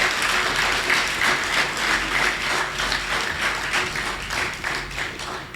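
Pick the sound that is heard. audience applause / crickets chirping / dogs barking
audience applause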